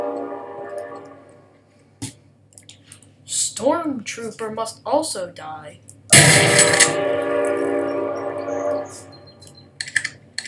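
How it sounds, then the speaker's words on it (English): A train passes close to a house and its horn blares loudly partway through, a sustained blast that rings on over a low rumble. Someone talks over game sounds before the horn. "Sorry that there's a train going by my house."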